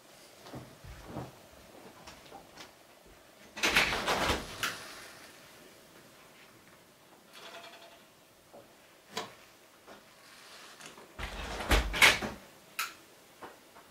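A door being opened and then shut in a quiet room, heard as two separate bursts of knocking and rattling several seconds apart, with faint scattered clicks and movement noises in between.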